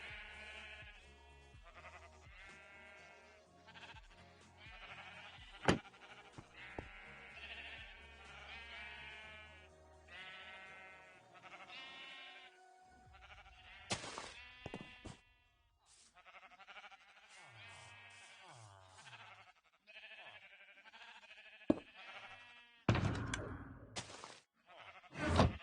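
Brown sheep bleating repeatedly at close range, a long run of wavering baas that overlap and trail off, with a few sharper, louder calls near the end.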